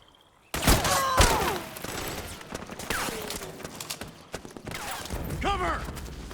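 Gunfire in Metal Gear Solid 4: Guns of the Patriots, a rapid burst of shots with mechanical clatter, shouted game voices cutting in throughout, then further scattered bursts continuing under the commotion.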